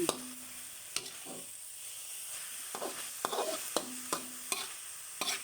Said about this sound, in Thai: วันนี้เรามา ผัดหน่อไม้กัน